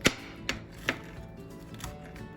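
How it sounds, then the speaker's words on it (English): A knife chops through bunched nuts on a cutting board in a few distinct, sharp close taps spaced irregularly, with quiet gaps between strikes. "bunch these nuts up and then chop easily"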